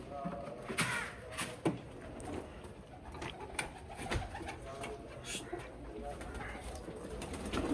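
Pigeons coo softly amid a busy background of clatter and faint movement, with no clear talking.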